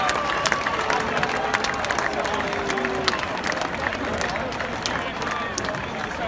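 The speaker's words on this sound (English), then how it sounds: "give him a cheer" A large Indianapolis 500 crowd cheers Japanese driver Takuma Sato's 2017 victory, a steady wash of distant roaring and applause that runs the whole time beneath an announcer's commentary.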